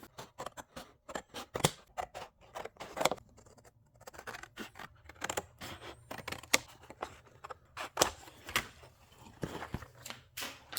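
Template material being cut for a racecar body panel on a Toyota Starlet KP61, a rapid run of sharp scissor snips at an uneven rhythm, close and crisp with short pauses between cuts.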